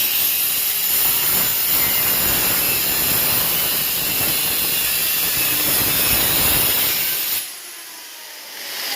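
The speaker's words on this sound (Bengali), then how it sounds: "মালটা আমরা কাটলাম" A length of material is cut to 15-inch lengths with a loud power saw, giving a steady, harsh roar that runs close and continuous for several seconds, then cuts off abruptly as the blade stops.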